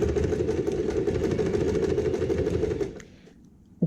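A sewing machine runs steadily at stitch length 3, topstitching along the presser foot edge of fabric for a maternity bag. A close, rapid mechanical whir lasts about three seconds and then stops, leaving near silence.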